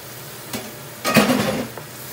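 Whole chillies, black pepper, cumin and cinnamon sizzling in hot oil in a pot for channa pulao, a brief tap at first, then a burst of crackling frying that fades into a soft sizzle with a light clink near the end.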